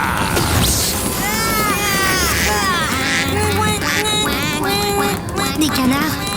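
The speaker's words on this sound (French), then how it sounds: "Vous les avez transformés en canards." Many ducks quack loudly and repeatedly over a busy, noisy background, with the calls overlapping in a dense, chaotic chorus.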